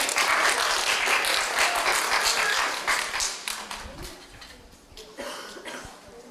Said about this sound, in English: give Shawnee a round of applause, please